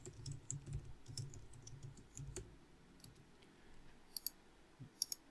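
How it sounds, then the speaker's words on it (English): Quiet, irregular clicks of typing on a computer keyboard, close by, with a few sharper key taps near the end. "you can then start typing whatever you want to"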